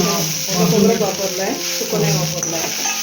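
Grated coconut dry-roasts in a pan, giving a close, steady crackling sizzle with the scrape of stirring, while a voice talks over it.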